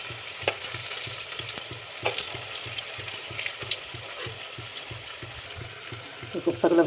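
Koftas sizzle and fry in a pan over medium heat, a steady crackling hiss with repeated soft scraping strokes of stirring, loudest near the end.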